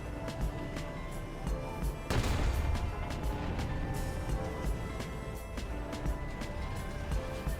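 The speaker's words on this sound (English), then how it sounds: "someone else firing at my team" Gunfire and artillery rumble in War Thunder realistic battles, a dense, steady wash of distant shots with a heavier burst near two seconds, sustained throughout with no talking.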